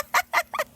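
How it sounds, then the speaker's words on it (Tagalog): Chickens on a rural farm cluck in three short, close bursts with brief gaps between them, the last call slightly broken, with no talk. "Ningana ju ang kinabuhi pag nasa bukid ka, daghag manok."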